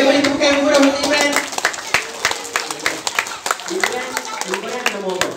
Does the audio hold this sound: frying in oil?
no